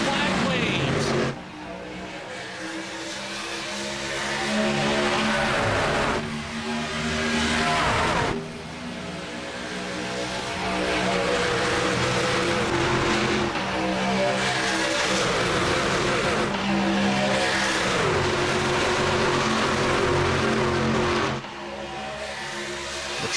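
Race trucks racing at Daytona in a truck-series video game: steady high engine whine and roar with gear-shift dips every few seconds, continuous and close, with a commentator talking over it.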